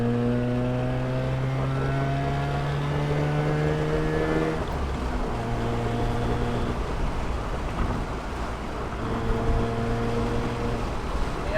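The rotary engine of a 1987 Mazda RX-7, rebuilt from a wreck, drones loud and close, with long steady tones that shift in pitch as it climbs, drops and climbs again through the revs.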